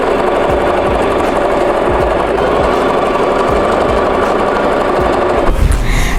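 Sewing machine stitching a lining to a gathered skirt about 1 cm from the edge, with a loud continuous close-up motor whir and rapid needle rhythm throughout, ending with a short clatter.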